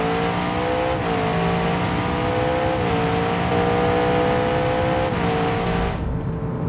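Car engine in a BeamNG.Drive drag race revving hard and loud, holding a steady high drone with brief dips as it shifts through gears, alone without any talk.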